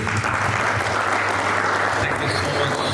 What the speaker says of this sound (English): So, round of applause for the ManageEngine team.